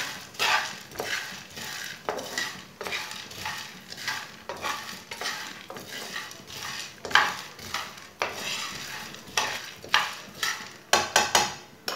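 Chickpeas are roasted in a pan, likely on a low flame, for makhana laddu. A utensil scrapes and stirs in a steady, repeated rhythm over a faint sizzle, close up and without talk.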